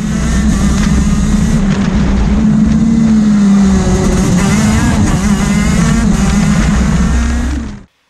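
A diesel-engined car races on a track. Its engine drones loud and close, the pitch rising and falling under load, until the sound cuts off abruptly.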